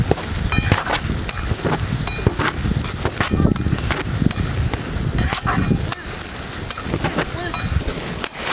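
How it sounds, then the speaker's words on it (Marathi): Onion frying and stirred in a pan over a wood-fired village stove, loud close sizzling and crackling with frequent scraping and clattering strokes of the spatula throughout. "कांदा भाजून घेऊया, चांगलं परतून घेऊया कांदा"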